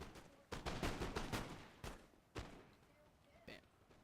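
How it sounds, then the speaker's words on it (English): Musket volley in Napoleon Total War battle, a cluster of sharp overlapping gunshots crackling in quick succession, then separate heavier booms and a few scattered distant shots trailing off. "Let's give off a volley."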